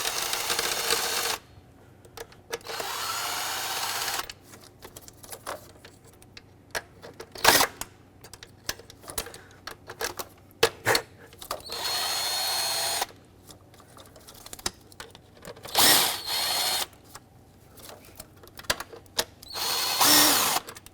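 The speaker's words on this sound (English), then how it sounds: "Okay, now let's remove the bolts completely." A power driver pulls bolts from the intake manifold of a 2009–2019 Ford Flex. Short whirring bursts repeat close by, broken by quiet pauses and a few sharp clicks, with no talking.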